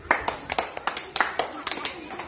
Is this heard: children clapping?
yes